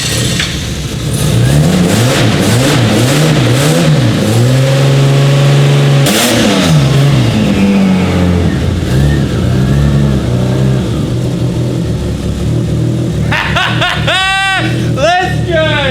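An RB30 triple compound turbo engine fitted in a VL wagon, cold and run through three mufflers, revs up and down in loud repeated swells over a steady idle, with people talking over it at the end.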